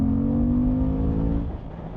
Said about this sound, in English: what it's done for the induction noise. Now I've modified the airbox.